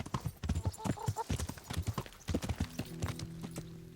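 Horse hooves clip-clop steadily and close in the Kingdom Come Deliverance video game, with a short whinny near the end, partly under a man's speech.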